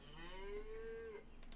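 An ox calf in the game Albion Online gives a single drawn-out moo. The low, steady call sounds close and clear, then a light click follows at the end, with no voices.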